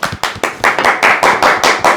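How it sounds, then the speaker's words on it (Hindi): An audience claps in a podcast studio to welcome a guest, a close, loud burst of hand claps that starts ragged and builds into a steady rhythmic clapping, with no talking. "तो आप दोनों की तालियों में हम सबके फेवरेट अयाज खान"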